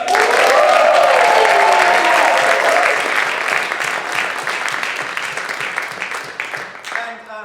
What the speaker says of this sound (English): Give a round of applause for Gael Doorneweerd-Perry